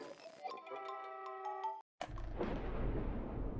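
A chiming melody from the video game Amanda The Adventurer cuts to a brief silence, then a loud, booming explosion bursts and slowly fades into a rumbling roar.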